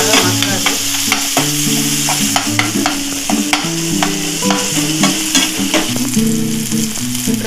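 Tomatoes sizzle and fry in a pan for egg curry, a steady close crackle broken by scraping stirs, with no voices.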